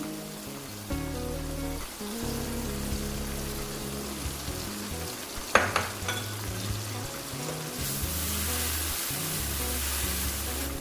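Pulao masala fries in a pan after yogurt goes in, a steady close sizzle with a single sharp clatter partway through, all under a sustained background musical track and without any talking.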